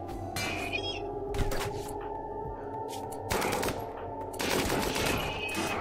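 Light machine gun fire in RimWorld, with several bursts of rapid shots over steady background game sounds, moderately loud and irregularly spaced.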